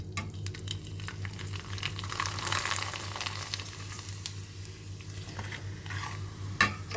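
Vadiyalu, sun-dried lentil crisps, frying in hot oil, with a steady close sizzle and bubbling, occasional stirring scrapes and one sharp clink near the end; no talk.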